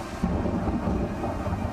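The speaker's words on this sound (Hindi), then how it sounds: "बुर्ज खलीफा के आसमान में कड़कड़ाती बिजली का खौफ" Thunder rolls over Dubai near the Burj Khalifa during a flooding storm, a heavy low rumble that swells and lingers over a steady wash of rain, loud and without voices.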